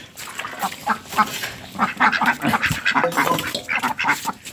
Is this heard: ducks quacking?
yes